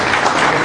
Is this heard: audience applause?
yes